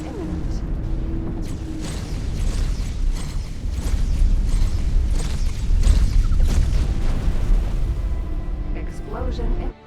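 Explosions rumble through space combat in the game X4: Foundations, with dense booming bursts and mechanical game sounds running continuously at a loud level while someone talks over them.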